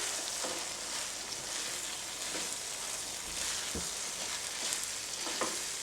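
An egg biryani rice mixture sizzles in a frying pan while a spoon stirs and scrapes through it at intervals, close up and steady, with no talking.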